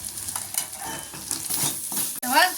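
Coriander and chili powders are stirred in a hot frying pan for a prawn curry, with loud scraping strokes over an uneven sizzle, a brief pause, then a final swirling scrape.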